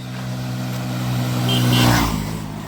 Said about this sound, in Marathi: तिन्ही गाड्या अशा लाईनमध्ये लागलेल्या आहेत आणि आवाजाने वाटते आता रेसची गाडी येत आहे